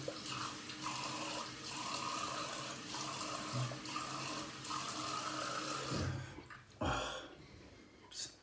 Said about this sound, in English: Gonna rinse cold for a minute.